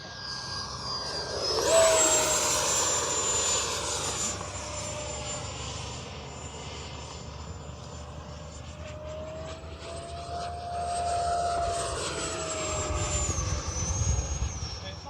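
A small jet turbine whines as an FMS Rafale 80mm EDF radio-controlled model jet passes, its high pitch sliding up and down with distance over a breezy rumble in windy conditions, growing louder near the end.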